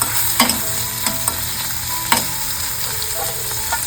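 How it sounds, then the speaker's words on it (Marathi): Chopped tomato and onion sizzle in hot oil in a pan, close and steady frying hiss punctuated by the scrape and clack of a spoon stirring a few times. "हा बघा 1 टमाटर चिरून घेतलेला आहे तो घालून घेते. त्याला पण चांगली परतून घ्यायची आहे."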